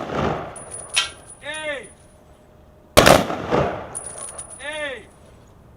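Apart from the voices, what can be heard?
three-round rifle volley at Veterans Day vigil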